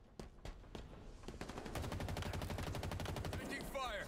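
Gunfire in the video game Halo Infinite during a multiplayer match: scattered single shots give way to a sustained rapid automatic burst, loud and dense, ending with a sweeping energy-like effect.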